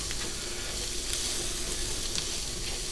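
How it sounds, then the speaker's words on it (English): Onions and seasonings sizzle steadily in a hot pan, a dense continuous frying hiss at close range with no talk. "let all the seasonings actually heat in the pan along with the onions"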